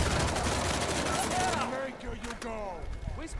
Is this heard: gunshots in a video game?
yes